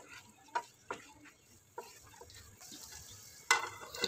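Chili pickle with yogurt and spices cooking on a low flame, a faint soft bubbling with a handful of distinct stirring clicks and scrapes scattered across, quiet and close.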